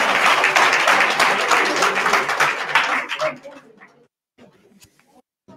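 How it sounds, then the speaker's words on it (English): An audience at a youth conference claps loudly and densely for about three seconds, then the applause thins to a few scattered claps and falls quiet. "Clap hands for her"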